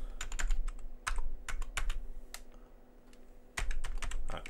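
Typing on a computer keyboard, bursts of quick close key clicks separated by short pauses, irregular rhythm, with no voices.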